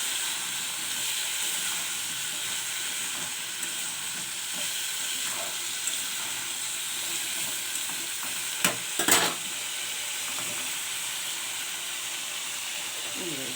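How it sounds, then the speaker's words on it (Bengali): Crab pieces frying with ground spices in a pan, a steady close sizzle and hiss with occasional stirring scrapes and a couple of sharp utensil knocks. "কাঁকড়াগুলো দেখি এরপরে একটু ভাজা ভাজা হয়ে গেলে আমি দিয়ে দেবো"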